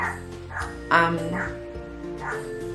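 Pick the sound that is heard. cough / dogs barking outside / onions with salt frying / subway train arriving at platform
dogs barking outside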